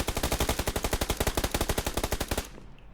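Automatic gunfire rattles in the battle royale game PUBG Lite, a rapid loud burst of about two dozen evenly spaced shots lasting over two seconds before cutting off abruptly into quiet.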